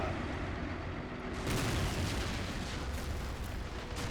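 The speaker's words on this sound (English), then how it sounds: "We got a mortar firing at us back there, though." Mortar fire in a RobZ Realism Mod battle for Gellért Hill: a broadband rumbling thump swells after about a second, then a sustained booming roar carries on under a noisy battlefield wash, fairly distant and muffled.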